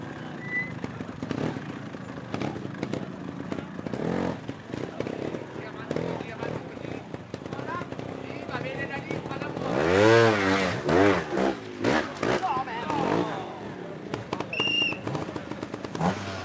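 A trial motorcycle tackling a competition section at the TrialGP in Andorra, its engine revving and blipping in short bursts with a sharp rise near the middle, under continuous commentary.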